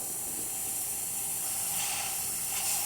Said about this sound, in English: So let's test the steamer.